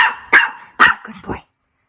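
A dog gives three or four sharp barks in quick succession, loud and close, then falls silent.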